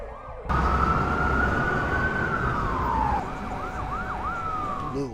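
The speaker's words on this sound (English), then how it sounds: "Blue lights, sirens, chaos." A police siren wails loudly nearby, holding a long rising tone before switching to a rapid yelping cycle, with traffic rumbling underneath.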